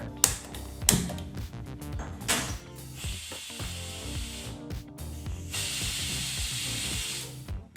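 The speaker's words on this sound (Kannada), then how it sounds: "ಇಲ್ಲಿ ಕುಕ್ಕರು ಎರಡು ವಿಸಲ್ ಬಂದಾಯಿತು" A pressure cooker cooking chickpeas whistles and hisses loudly as steam vents in long sustained bursts, mixed with clanks and rattling metal knocks.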